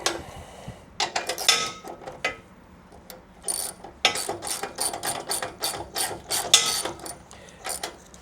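Ratchet wrench cranking down bolts during assembly of a Katool tire machine, quick clicking strokes in repeated bursts with short pauses, close by.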